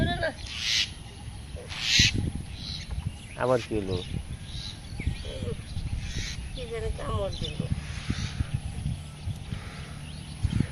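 A myna bird calls in short rising chirps and warbles, repeated a few times, outdoors near water, partly under a voice and background noise.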